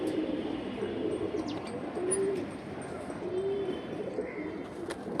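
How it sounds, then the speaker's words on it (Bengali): Pair of silver pigeons, double barala breed, at a pigeon sale, giving soft low coos a couple of times against steady background noise and faint chirps. "এক পেয়ার সিলভার কবুতর"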